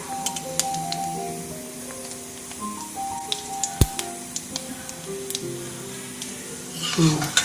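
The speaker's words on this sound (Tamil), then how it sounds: "இப்போ வெடிக்கிற சத்தம் கேட்குது பாருங்கள்." Sharp scattered pops and crackles of mustard seeds bursting in hot oil over a steady sizzle, with a soft melody playing in the background.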